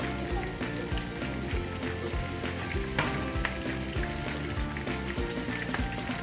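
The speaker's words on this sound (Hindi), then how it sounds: "अब ये तड़का तैयार हो रहा है हमारा" Steady crackling sizzle of spices tempering in hot oil for Punjabi-style lentils, continuous and close, with faint clinks and occasional pops throughout.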